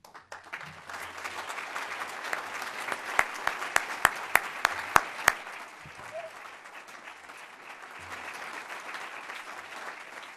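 An audience at a City Club of Cleveland forum applauds continuously, a dense wash of clapping from a room-sized crowd, with a few sharp louder claps near the microphone partway through.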